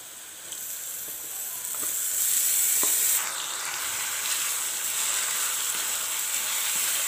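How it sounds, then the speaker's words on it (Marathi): Barnyard millet (bhagar) being fried in hot oil in a pan with potatoes, a steady bright sizzle that swells louder midway, with faint stirring clinks and no talk. "आता भगर सुद्धा आपण या तेलामध्ये परतून घेऊया थोडीशी"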